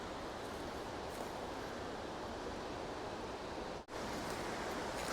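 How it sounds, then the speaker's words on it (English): Steady broadband rushing water from distant Lost Falls in Rocky Mountain National Park, with a brief dropout near the end; no voices. "it sounds like there are some waterfalls down here"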